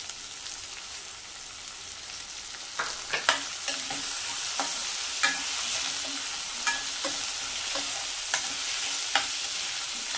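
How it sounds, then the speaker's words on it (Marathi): Chopped onion sizzles steadily in hot oil in a pan while a spoon scrapes and stirs it in irregular clinks and knocks, close up and with no talking. "कांदा आता परतून घेते चांगला"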